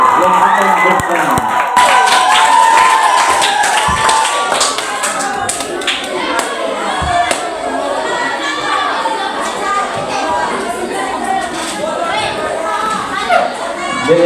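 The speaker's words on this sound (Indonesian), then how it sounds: "beri tepuk tangan untuk Benedetto yang akan bertanya" A school audience at a student democracy event applauds a student called up to ask a question, with sustained clapping and crowd noise that opens loud and then settles into steady lighter clapping.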